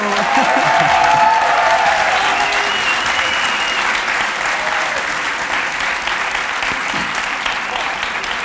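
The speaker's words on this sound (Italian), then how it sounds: "Dovrete continuare ad applaudire." A live audience at an Italian podcast taping claps loudly and continuously, the sustained applause easing slightly toward the end while a faint voice surfaces briefly near the start.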